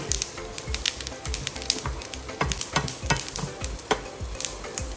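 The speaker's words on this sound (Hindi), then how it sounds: "इनको थोड़ा सा 1 से 2 मिनट तक हम रोस्ट करेंगे।" Mixed seeds, sesame among them, stirred and dry-roasted in a pan for an oil-free oats snack: a steady rustling sizzle with rhythmic scraping strokes, close and fairly loud, with no talking.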